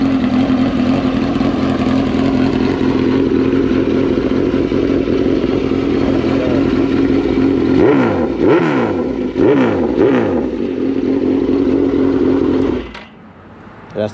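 A 2003 Suzuki GSX-R 1000 motorcycle engine idles loudly and steadily up close, then blips through several quick rising-and-falling revs before cutting off near the end.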